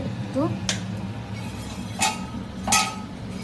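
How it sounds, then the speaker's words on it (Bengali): A lid goes onto a cooking pot as salted food simmers, with three light metallic clinks spaced over a few seconds above a steady low kitchen hum. "একটুখানি ঢাকনাটা দিয়ে দিলাম"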